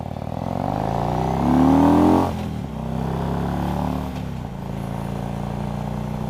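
A motorcycle on a rainy ride accelerates hard past a car, its engine rising to a loud rev, easing briefly, then climbing again through the gears, with steady wind and road roar underneath.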